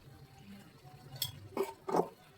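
Chicken is stirred with salt and turmeric in a pot, giving three quick spoon scrapes and clinks against the metal, faint and close, over quiet background.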